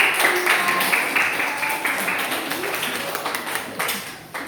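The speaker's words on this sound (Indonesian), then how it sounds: "berikan tepuk tangan" Audience clapping after a student presentation on pupils' dependence on AI at a school learning event, a dense spread of overlapping claps that gradually thins toward the end, with some background murmur.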